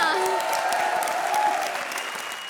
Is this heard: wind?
no